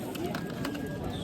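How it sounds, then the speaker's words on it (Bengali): Many pigeons of various breeds at the Tebaria pigeon market in Natore coo softly and continuously amid a low crowd murmur, faint and somewhat distant. "এই দেখেন এখানে অনেকগুলো কবুতর আছে"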